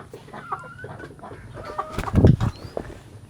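Several chickens cluck close by with short, uneven calls, building to a louder flurry of squawks near the middle as newcomer hens are chased and bullied by the rest of the flock.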